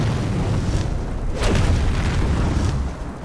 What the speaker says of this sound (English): I should be able to kill him with fire easily